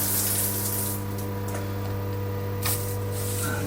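Rainfall shower head in a renovated en-suite bathroom running steadily, a loud continuous spray of water with a constant pump-like hum beneath, no talking.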